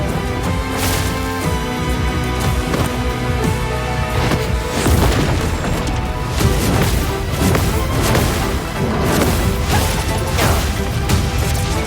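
Heavy cannon fire in a pirate-style sailing video game, with booming blasts and crashing impacts repeating across a dense, loud battle soundscape.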